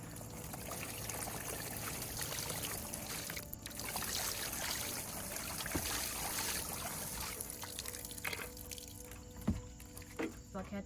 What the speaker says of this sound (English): we're gonna do one more watering can's worth